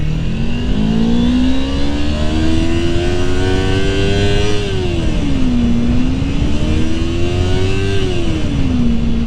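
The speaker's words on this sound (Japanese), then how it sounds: "なぜかスポーツタイプのバイクに乗ってるというだけでエンジン音が楽しく思えてしまう。" A Kawasaki Ninja 250 sport motorcycle engine revs loud and close while riding, its pitch climbing steadily through a gear, dipping at a shift, then rising again in a continuous, smooth drone.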